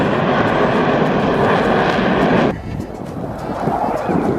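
A fixed-wing airplane flies at the Abbotsford air show: a loud, continuous engine roar close by that drops off sharply halfway and gives way to a softer, windy rumble.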